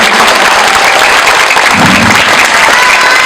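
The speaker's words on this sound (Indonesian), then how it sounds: "Tepuk tangan untuk semuanya." Steady, dense applause from a crowd at an Islamic boarding school graduation event, loud and continuous throughout with no talking.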